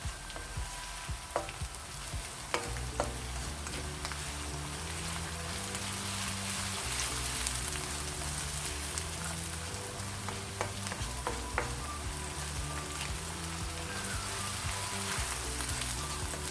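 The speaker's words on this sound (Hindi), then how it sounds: "बस इसको इतना फ्राई करेंगे कि इसमें से खुशबू आने लगे लहसुन अदरक की।" Garlic ginger paste fries in a pan with a steady, soft sizzle and occasional crackles and stirring scrapes, continuous and fairly quiet throughout.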